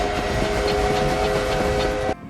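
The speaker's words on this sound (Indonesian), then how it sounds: "tiba-tiba ada sebuah kereta yang mengejar Naruto dan Yuki" A train thundering along in a Naruto animated film, chasing characters: dense continuous rumble and clatter with a sustained whistle-like tone, loud and close, ending abruptly.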